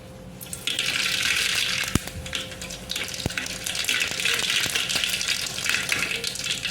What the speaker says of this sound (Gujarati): હાલો આપણું તેલ તો આવી ગયું। હવે આપણે રાઈ નાખી દઈશું।